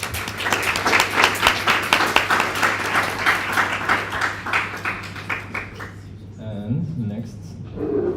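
Applause from attendees at the ESN Hungary National Assembly, a room of people clapping steadily for several seconds before it dies away and voices take over.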